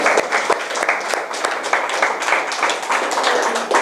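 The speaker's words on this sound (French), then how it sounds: "Applaudissons le Seigneur." A church congregation at a deliverance seminar in Avignon claps and applauds steadily, a dense, continuous patter of many hands filling the room at a lively, even level throughout.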